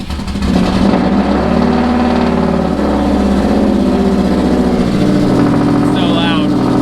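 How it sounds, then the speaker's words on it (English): A Subaru EJ205 car engine idles with a loud, rumbling, smoky-running exhaust, steady and close, while voices talk over it. "it's got a really, really obnoxious exhaust"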